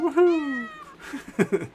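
Cartoonish cat meow from the Google cat-paw easter egg, a single rising-then-falling mewing call followed by a few short chirpy meows, loud and close, with a brief excited voice.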